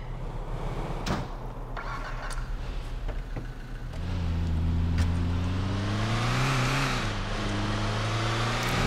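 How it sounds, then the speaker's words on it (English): Stolen truck in Grand Theft Auto IV, its engine idling with a low hum before revving up and driving off, rising and falling in pitch, with a few clunks and bumps early on. "Here's the truck that we're stealing."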